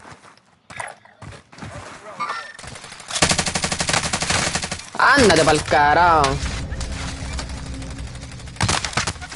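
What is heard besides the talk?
gunfire in the video game Call of Duty Warzone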